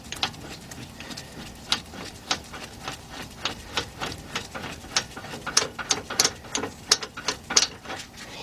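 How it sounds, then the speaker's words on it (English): Rapid clicking ratchet strokes sound close up as the outer tie rod is unscrewed on a 2006 Buick Lucerne, steady at first and then quickening into sharper, louder bursts. "unscrew the outer tie rod and leave the nut in place until it comes completely off"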